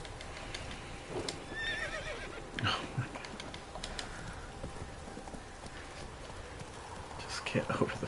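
A galloping horse in The Witcher 3 with steady hoofbeats underneath, a couple of whinnies rising above them and a faint voice in the background.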